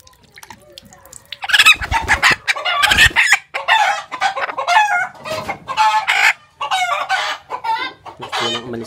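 Chickens clucking and crowing close by in a yard or coop, busy overlapping calls with a rooster among them, fairly loud and continuous, with a brief voice in the background.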